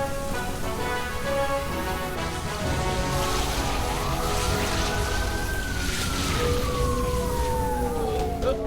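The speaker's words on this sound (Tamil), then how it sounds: "ஆம்புலன்ஸ் வந்துருச்சுப்பா" An ambulance siren rises and then sweeps down as the vehicle arrives, loud and steady over heavy rain, with no talk.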